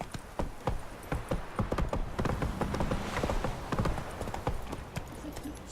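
Roach, Geralt's horse in The Witcher 3, trots along with steady clip-clop hoofbeats, close and fairly loud over a busy game background, with a brief snort or whinny in places.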